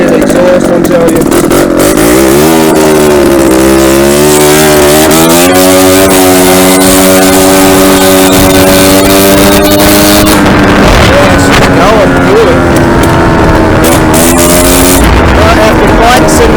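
A motorcycle with a damaged exhaust runs loud and close, its engine note rising and holding steady over a long stretch, with someone talking over it.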